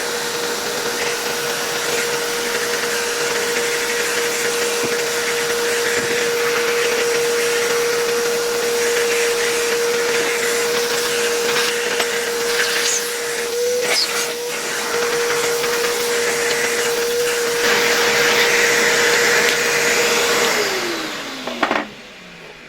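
A restored 1964 Gamma II vacuum cleaner runs as a regular vacuum, its motor droning loud and steady with a constant whine for about twenty seconds before it winds down and stops.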